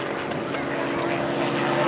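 At a tank show, a propeller aircraft bearing Slovak air force markings drones overhead with a steady, loud engine hum that swells slightly toward the end, under faint voices.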